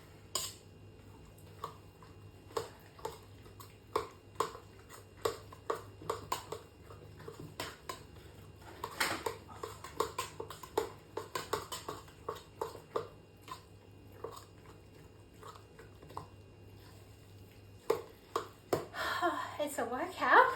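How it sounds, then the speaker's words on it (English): A utensil clinks and scrapes against a bowl while stirring a sausage roll filling of fresh eggs, peppers and spices, in an irregular series of sharp taps, with a brief louder clatter near the end. "Stirring it all together. There's a lot of mixing now."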